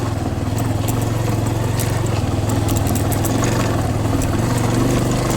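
A motorcycle climbing the road up Bettadapura hill, its engine a loud, steady close-up drone with a throbbing low rumble and faint rattles, continuous throughout with no talk.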